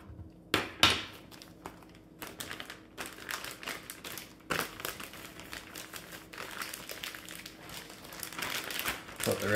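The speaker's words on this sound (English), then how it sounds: "Put the rest of this cheese back in the bag and save it for later." Plastic bag crinkling and rustling up close as leftover cheese goes back into it after grating for nachos, loud sharp crackles in bursts with irregular handling noise and some talking nearby.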